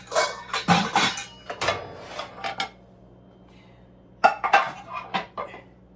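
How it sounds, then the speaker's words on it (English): Metal pots and pans clank and scrape in bursts in a kitchen, with a quiet pause midway before another cluster of clattering handling sounds. "let's take out our pots and pans."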